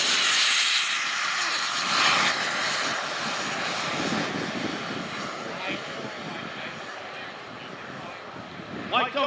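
A large RC model airplane, the Rebel Max, flies overhead at a noon demo show, its engine a loud, steady buzzing drone that rises and fades as it passes, with people talking over it.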